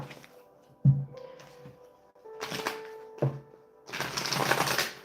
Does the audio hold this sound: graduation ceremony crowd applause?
no